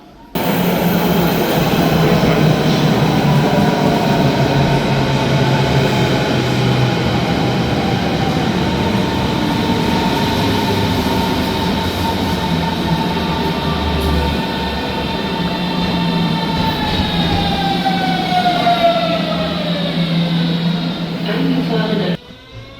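Steady rumble and rolling clatter of a train running, heard from inside a carriage at a Berlin station area, loud and continuous for about twenty seconds, with a rising then falling whine as it slows near the end.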